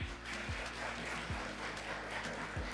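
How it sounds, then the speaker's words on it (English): Applause in a legislative plenary sitting, a soft, even patter of clapping from the chamber underneath a strong low hum with recurring low thumps. "Let's all join together in a heartfelt round of applause"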